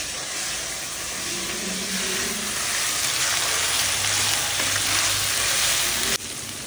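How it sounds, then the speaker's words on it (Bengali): Onion paste fries in oil with a steady, close, dense sizzling hiss that runs unbroken, with no voices over it. "এই পেঁয়াজ বাটাটা কিন্তু ভালো করে কষাবো যতক্ষণ পেঁয়াজের যে একটা কাঁচা গন্ধ চলে যাচ্ছে"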